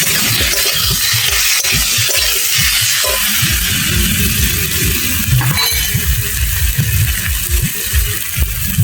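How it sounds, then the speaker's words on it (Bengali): Fried potatoes stirred into spiced oil in a pan, with a loud, continuous close sizzle broken by repeated scraping and clinking of a spatula against the metal. "এবার দিয়ে দেবো ভেজে রাখা আলু। দিয়ে ভালো করে আমি কষাবো।"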